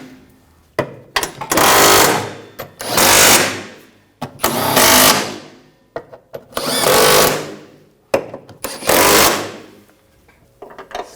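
A power tool on a 2007-2013 BMW X5 tightens the driveshaft coupler bolts in loud, close bursts of whirring, each lasting one to two seconds. The bursts repeat about five times with brief clicks and gaps between them.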